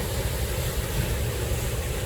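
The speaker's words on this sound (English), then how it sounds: "I'm actually out here in Malibu, sitting by the ocean, which I'm sure will be a little loud at times" Ocean surf washing onto the shore at Malibu, a steady, loud roar of breaking water mixed with wind rumble, continuous with no voices.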